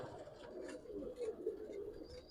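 A Giribaz high-flyer pigeon cooing at close range, soft rolling coos repeating in a loose rhythm, fairly faint, with light background activity.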